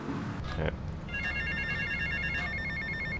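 A cell phone rings in GTA: Vice City with a repeating electronic ringtone of bright beeping tones, preceded by a brief clatter of game sounds.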